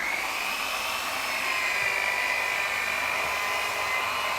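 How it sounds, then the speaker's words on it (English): A spinning toweling buffing head polishes a mahogany table, producing a steady, high-pitched whirring hum that holds constant throughout at moderate volume. "this is going to burnish the surface, spinning around, and it's just polishing the grain."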